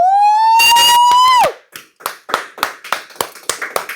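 A run of roughly ten sharp hand claps, close and loud, follows a long rising siren-like tone that drops off, the claps coming in a quick uneven rhythm in a lively podcast setting.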